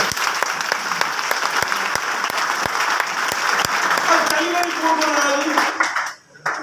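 Seminar audience in Bathinda breaks into sustained applause, dense crowd clapping with some sharp individual claps standing out and voices mixed in, ending in a sudden drop near the close.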